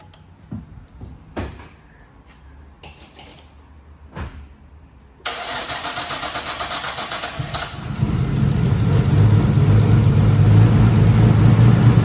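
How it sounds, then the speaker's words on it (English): Nissan R34 Skyline with a turbo conversion cranks with a few short bursts, then catches and fires up to a loud, steady running engine that holds close by to the end. "It's running."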